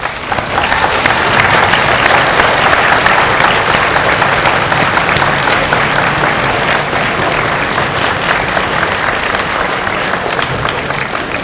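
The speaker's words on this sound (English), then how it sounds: "thank your people with a round of applause too" An audience at a white coat ceremony gives a long, loud round of applause, dense clapping that swells early and holds steady before easing slightly, with a few voices mixed in.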